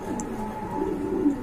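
Low, soft cooing from a black female Shoukin pigeon about five to six feathers old, a steady murmuring coo close by with no speech over it.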